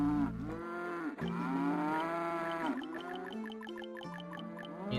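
Cattle moo in the farming town of the settlement-building game Settlement Survival: a run of long, loud, close lowing calls with overlapping voices, alone and without any talk.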